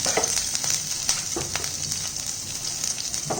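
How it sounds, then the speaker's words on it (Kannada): Garlic and green chillies sizzle in hot oil, a steady close frying hiss with a few soft stirring clicks and no voices. "ಇವಾಗ ಎಣ್ಣೆ ಬಿಸಿ ಆದಮೇಲೆ ನಾವು ತೊಗೊಂಡಿರೋಂಥ ಬೆಳ್ಳುಳ್ಳಿ ಮತ್ತು ಹಸಿಮೆಣಸಿನ್ಕಾಯಿ ಹಾಕೊತಾ ಇದ್ದೀನಿ."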